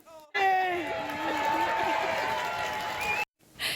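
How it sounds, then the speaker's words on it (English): A crowd bursts into sustained applause mixed with cheering and whistles, loud and steady for about three seconds before cutting off abruptly. "earning a rapturous round of applause"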